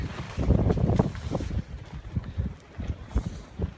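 Strong storm wind buffets the microphone at a wild camping spot, a loud broadband roar that gusts and surges, heaviest in the first second and a half, then continuing in rougher, choppier bursts.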